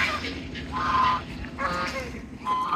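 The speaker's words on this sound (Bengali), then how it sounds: "রাজহাঁস" Geese give a series of nasal honks, about three clear calls spaced through a few seconds. They sound fairly close, over a low, steady background murmur.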